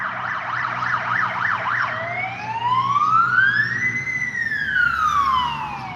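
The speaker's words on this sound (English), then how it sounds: "That's an ambulance." A loud ambulance siren wails close by, first in a fast warbling yelp, then switching to long rising and falling wails.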